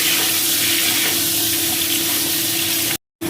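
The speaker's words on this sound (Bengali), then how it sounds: "এখন এটা ভাজা করব।" Boiled potatoes frying in a pan for a cauliflower and egg curry, a loud, steady close sizzle of hot oil that cuts off abruptly near the end.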